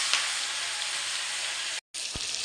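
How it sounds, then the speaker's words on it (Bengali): Fish frying in hot oil in a kadai, a steady close sizzle and hiss that continues throughout, with one brief drop-out. "তেল কিন্তু তেতে গেছে, এবার আমি একে একে মাছগুলোকে দিয়ে দেবো"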